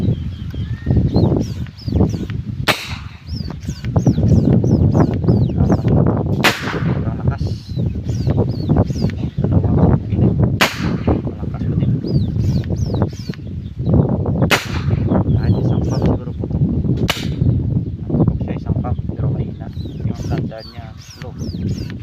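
A homemade PVC gas-powered toy gun with a built-in gas tank fires sharp loud pops at spaced intervals, several shots over steady talking, with birds and farm animals faintly audible outdoors.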